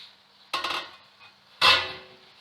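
Biryani is served from a pot, two distinct clattering scoops of a metal spoon against the vessel a second apart, close and crisp over a faint background hiss.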